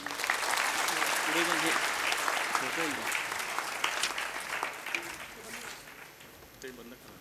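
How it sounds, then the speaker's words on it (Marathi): Audience applause at an inauguration ceremony, a dense sustained clapping that fills the hall and slowly tapers off, with voices and some cheering mixed in. "आपण त्यांचं जोरदार टाळ्या वाजवून स्वागत करावं."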